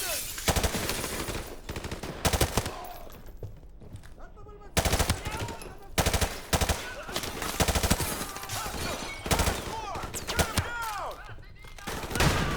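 Call of Duty Modern Warfare Remastered combat with loud, bursty machine-gun and rifle fire in repeated volleys over several seconds, scattered single shots between them, and distant shouting voices.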